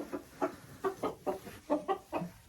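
Hens in a chicken coop cluck in a quick, regular series of about nine short, close calls with little pause between them.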